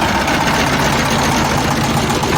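A Feng 160 tractor engine idles loud and close, a steady rough diesel rumble with a slight knocking pulse and no talk.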